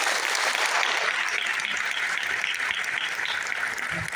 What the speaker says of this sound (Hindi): मैं चाहता हूँ कि इसके लिए एक जोरदार ताली होनी चाहिए